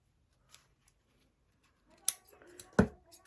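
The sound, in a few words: trimming paper for a junk journal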